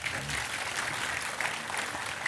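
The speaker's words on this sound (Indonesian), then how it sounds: "Sekali lagi tepuk tangan untuk Mbak Puan." Crowd applause for Puan Maharani at a Sinau Bareng gathering with Cak Nun, dense continuous clapping from a large audience, loud and steady across the whole stretch.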